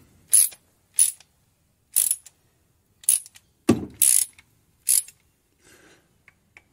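Ratchet wrench tightening the water pump bolts on a 1995 Holden Rodeo, several short sharp clicking bursts at roughly one-second intervals, close and crisp, with one heavier clunk midway and quiet pauses between.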